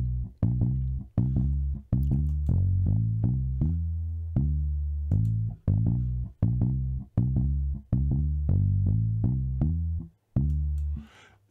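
Clean, muted Fender-style electric bass from the Trilian instrument's Clean Fender Mute Full Range preset plays a punchy, staccato line of short plucked notes in a steady groove, loud and dry with no other sounds.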